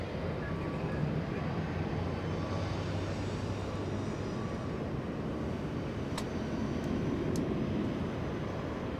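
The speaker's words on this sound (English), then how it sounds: "That means Delta's going to be taking off." A Delta airliner at LAX sends out a faint, steady jet rumble from a distance, a low continuous drone with a couple of brief sharp clicks near the end.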